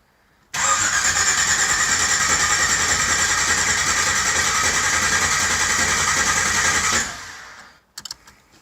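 A V8 engine swapped into a Chevrolet S-10 pickup cranks steadily on the starter for about six seconds without catching, a loud rhythmic churning that stops abruptly, followed by a few brief clicks.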